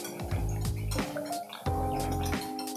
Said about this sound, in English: and whisk that together.